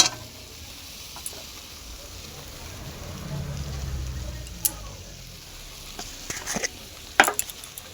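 Spice paste sizzling in a pan as it is stir-fried, with a steady soft frying hiss, a few sharp scrapes and clinks of the spoon near the end.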